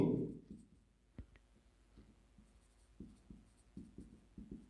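Marker or chalk strokes on a board during a class 12 chemistry lesson on Van't Hoff factor and abnormal molar mass: a series of faint, close taps and short scratches in an uneven rhythm, with a brief murmur at the start.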